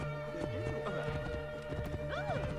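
Game horse in Origins, with hooves clip-clopping and a whinny amid steady music and game sounds, all under ongoing voices.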